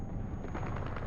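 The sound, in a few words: machine gun fire in War Thunder video game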